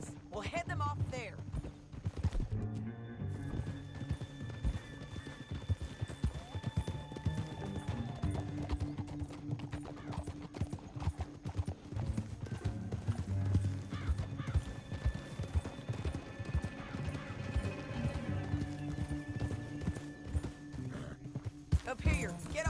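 Horses galloping in Red Dead Redemption 2, a dense and steady clatter of hooves with occasional whinnies and neighs, heard under game dialogue and background music.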